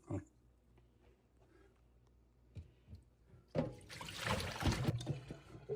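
Dirty water from soaking potatoes is poured and rinsed out of a pot, starting with faint trickles and then a louder rushing splash in a kitchen after quiet handling noises.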